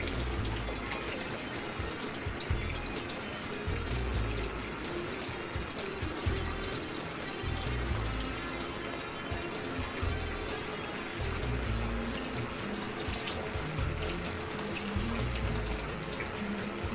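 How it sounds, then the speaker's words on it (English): Water pours steadily out of an aquarium protein skimmer, a constant splashing and gurgling flow with a rhythmic low pumping pulse beneath it, moderately loud and unbroken. "as I close this valve, the flow of water out of the skimmer,"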